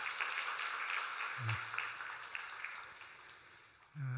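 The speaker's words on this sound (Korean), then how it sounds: "우리 박수로 환영하도록 하겠습니다" A church congregation claps at a Sunday service to welcome a newly registered member, the applause soft and distant as a steady patter filling the large room.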